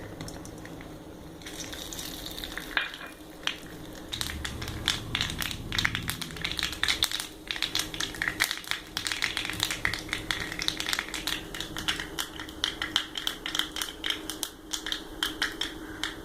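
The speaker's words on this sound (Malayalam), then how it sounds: "കടുക് പൊട്ടി കഴിഞ്ഞതിന് ശേഷം നമുക്ക് കുറച്ച് കറിവേപ്പില ഇടാം" Mustard seeds crackle and pop in hot oil in a pan, a rapid irregular stream of sharp close snaps over a low frying hiss, thickening into a dense burst midway.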